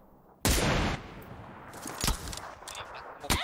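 Gunfire in the game PUBG Lite: a loud close burst of shots, then scattered cracks and a final sharp report.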